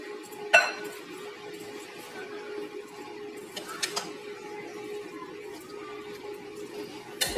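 A spoon scrapes and clinks against a bowl while stirring yogurt fruit chaat, with sparse sharp taps and a soft steady rustle of mixing throughout.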